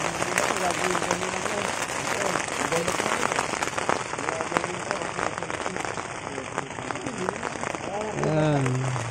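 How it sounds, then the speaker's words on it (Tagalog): Steady, continuous rain pattering at a campsite in the early morning, a dense hiss with scattered drops, constant at moderate strength, with a voice talking over it throughout. "Grabe ang ulan. Hindi naman siya ganun kalakas pero continuous."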